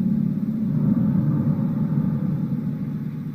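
A spring reverb effect produces a deep, enveloping thunder-like rumble, a steady low roar that swells slightly and then fades over a few seconds with no voices.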